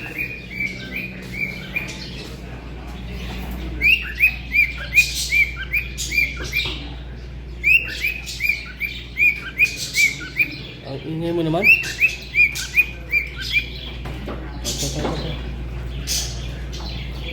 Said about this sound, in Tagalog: Ang ingay ng ibon na to ah.